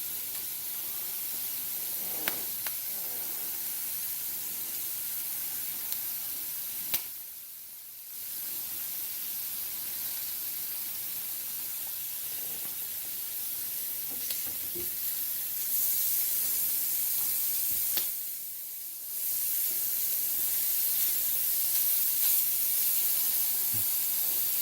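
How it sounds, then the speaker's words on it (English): A long, steady hiss of food sizzling in a hot pan, briefly cutting out twice before resuming, with no talking. "I'm pausing for effect for the sizzling."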